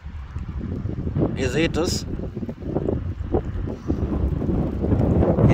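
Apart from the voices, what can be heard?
strong wind during a thunderstorm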